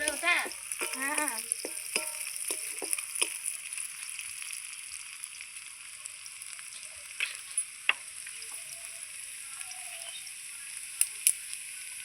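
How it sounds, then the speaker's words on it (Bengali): Sliced onions fry to golden in a pan, a faint sizzle with a series of sharp spoon clicks and scrapes against the metal, while a voice talks quietly early on and a few birds chirp in the background. "পেঁয়াজটা আমি একটু লাল লাল করে ভেজে নেব, সোনালি কালার।"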